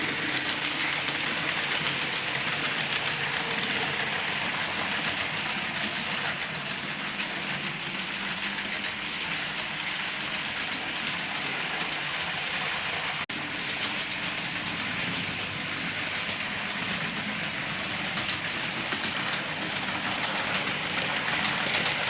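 A Hornby GWR Hitachi IEP bi-mode Class 800 model train runs on its track with a steady, continuous whir and rumble that holds at an even level throughout, with no voices.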